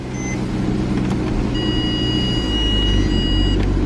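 A car engine idles steadily at an outdoor car auction, a low close rumble, while faint high beeping tones sound in the background.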